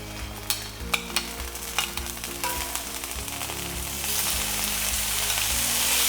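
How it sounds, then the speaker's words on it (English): Shrimp frying in oil in a skillet heated over medium-high, a loud, continuous close sizzle with scattered sharp pops early on, building into a denser, hotter hiss toward the end, with no talking. "I'm going to add some oil, and then we're gonna cook our shrimp up."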